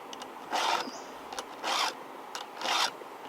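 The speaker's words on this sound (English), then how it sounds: "on your cuts, when you first hear it, it's kind of coarse sounding" Three slow, coarse rasping strokes of a 5/32 round file sharpen chainsaw chain teeth, each stroke a distinct scraping burst with short quiet gaps between, close and fairly faint.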